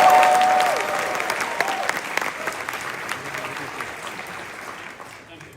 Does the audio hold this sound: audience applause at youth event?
yes